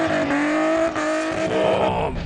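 A D1 race car revs hard while churning through deep sand during an off-road desert race, its loud engine note rising and falling continuously for a couple of seconds up close.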